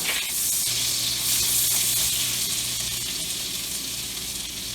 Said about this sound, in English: So now with the same pan, we are going to add a 2 tablespoons of butter.